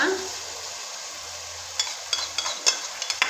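Tomato puree and ground masala fry in oil with a low steady sizzle, joined later by a run of quick scraping and clinking stirring strokes against the pan, close, with faint murmuring underneath.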